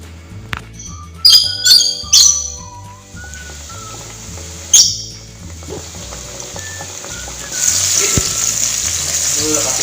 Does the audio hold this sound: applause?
no